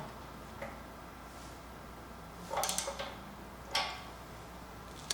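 A 13mm socket tightens bolts on a dual mount interface for an ODU 600 radio unit, with a few faint metallic ratchet clicks in short clusters over a steady background hiss.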